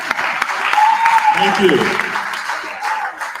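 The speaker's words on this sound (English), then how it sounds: "All right, keep on clapping." Steady audience applause at the closing session of a democracy and rights festival, continuous clapping under a voice speaking over it.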